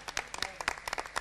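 Scattered, fairly quiet clapping from an award ceremony audience for a singer, a handful of distinct claps in an uneven rhythm over a short stretch.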